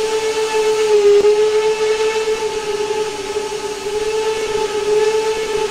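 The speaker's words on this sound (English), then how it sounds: "Sounds, I got a whistle." A steady steam locomotive whistle on a 4-6-0 engine sounds one long, sustained tone in the Trainz 2019 simulator game, loud and unbroken for several seconds.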